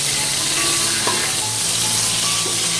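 Eggplant slices fry loudly in hot oil, a dense, constant close-up sizzle with a couple of faint clinks of a spatula.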